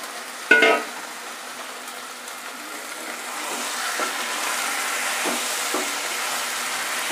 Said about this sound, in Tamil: சிக்கனை போட்டு நல்லா பிரட்டுங்க. நல்லா வதங்குது.